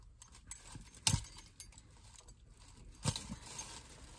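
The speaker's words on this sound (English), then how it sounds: "I got the keys out and everything." Keys jangle in a few short metallic bursts, first clearly, then again a bit later, close by and fairly quiet, in an otherwise calm room.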